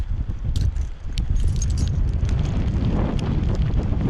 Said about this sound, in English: Keys in this pocket.